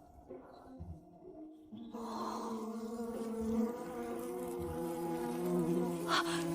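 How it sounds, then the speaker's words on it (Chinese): Bees buzz in a steady, droning hum that starts faintly and grows louder and fuller after a couple of seconds, continuing without pause. "你听到嗡嗡声了吗？"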